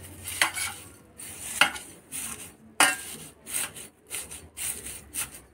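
A utensil stirring homemade herbal hair oil in a pan over a low gas flame, making close scraping and rubbing strokes against the metal, with sharp knocks at irregular intervals.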